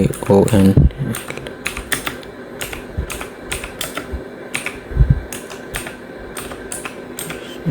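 Typing on a computer keyboard produces a run of close, crisp key clicks in uneven bursts, with a voice briefly heard at the start.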